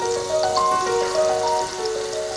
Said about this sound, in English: 6 anchovy fillets. Let them melt slowly over medium heat.